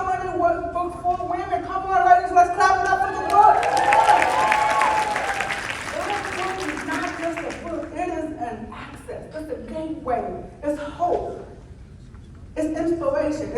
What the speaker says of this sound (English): Come on, ladies, let's clap it up for the book.